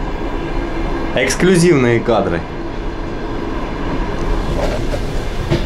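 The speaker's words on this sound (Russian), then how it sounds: "Крайний вагон в дизель-поезде Еленовка-Донецк." Rumbling, steady ride noise fills the rear carriage of a diesel train on the Yelenovka–Donetsk line, loud and continuous, with someone speaking briefly near the start over it.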